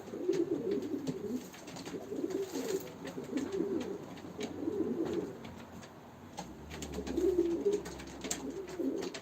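Pigeons at a live auction of play birds coo in soft, repeated low rolling phrases, faint and somewhat distant, recurring every couple of seconds.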